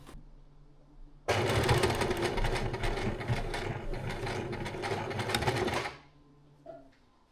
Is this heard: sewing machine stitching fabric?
yes